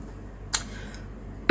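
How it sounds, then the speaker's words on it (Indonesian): A short, faint throat sound is followed a second later by a single sharp, loud cough. "Aduh, sampai batuk."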